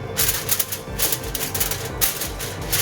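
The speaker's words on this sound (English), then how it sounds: "Now I'll place a foil" Aluminium foil is crinkled and pressed over a Kolkata mutton biryani pot, a close, loud run of crisp rustling bursts in quick irregular rhythm with no talk.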